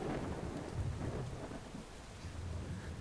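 Thunderstorm in a video game, with a steady wash of rain and low thunder rumbling underneath, loud and continuous throughout with no talking.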